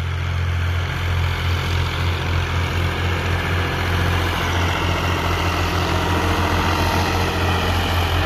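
A 2022 New Holland Ghazi 65 HP tractor's diesel engine runs steadily close by, a loud, unbroken low rumble with a constant throb and no speech over it.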